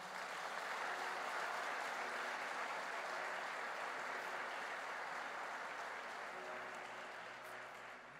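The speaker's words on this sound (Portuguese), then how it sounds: "Vamos dar um aplauso ao Senhor." A church congregation gives sustained applause, dense clapping at a steady level that tapers slightly toward the end, with no speech over it.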